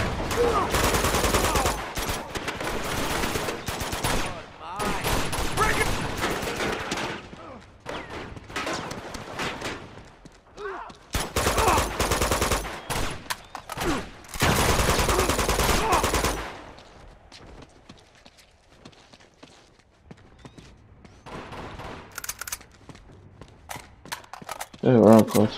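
Bursts of automatic gunfire from the video game Uncharted come in several loud stretches separated by quieter pauses, with players talking between and over the shooting.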